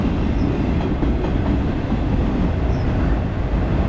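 A westbound BNSF auto rack freight train rolls past slowly, a steady, loud rumble of rail cars with faint clickety-clack from the wheels, continuous for the whole stretch.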